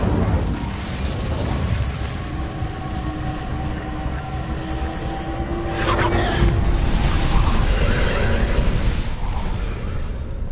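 A fire spell cast in Hogwarts Legacy: a steady roaring rumble of flames swells into a louder whooshing burst midway and keeps burning loudly to the end.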